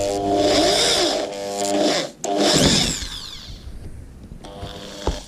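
A power drill whirs loudly up close as it bores holes in the chassis of a ZD Racing 1/8 scale RC truggy, the motor spinning up in bursts with a short pause between runs before winding down.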